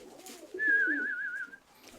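Pigeons in a dovecote give a single soft, wavering coo with a faint whistling quality, heard close up over quiet background chatter.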